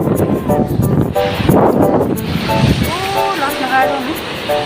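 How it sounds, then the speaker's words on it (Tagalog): Strong ocean waves break and surge along a beach on a warm-season outing, a loud continuous wash with wind buffeting the microphone while people chatter and call out nearby. "lakas ng alon."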